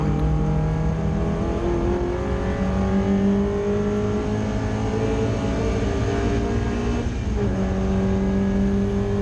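Ford Puma race cars circulating at Oulton Park in a BRSCC Clubsport Trophy race, a loud in-car engine note climbing through the revs, dropping sharply at a gearchange, then climbing again, with other cars' engines close by.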